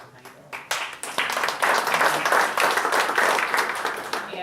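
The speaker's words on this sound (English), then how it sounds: "Larry's clapping" A crowd claps steadily through the room at an event, with sustained applause building quickly after a few scattered claps and holding at a loud, even level to the end, while people talk beneath it.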